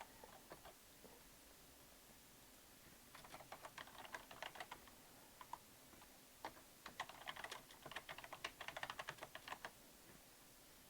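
Rapid bursts of keystrokes on a computer keyboard, close and fairly quiet, coming in uneven clusters separated by short pauses, with no talking.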